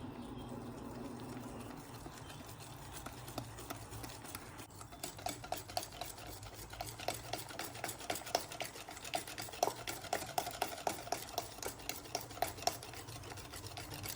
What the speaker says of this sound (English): Mixing until it's kind of smooth and make sure it's no lump.